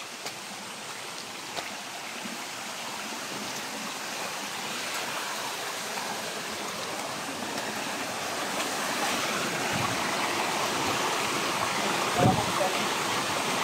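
Strongly flowing stream water rushes as a steady, broad wash throughout, getting slightly louder toward the end, with no talk over it.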